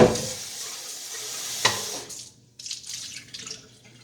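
Water from a tap runs briefly to rinse vinegar out of a tube at a sink, a steady close hiss with a short clatter midway, then fainter splashing and trickling.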